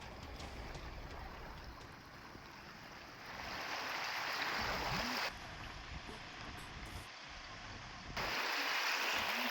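Floodwater after heavy monsoon rain in Bhandara rushes over a bridge in a broad, continuous roar of churning water, steady and fairly loud, with wind buffeting the microphone and no talk.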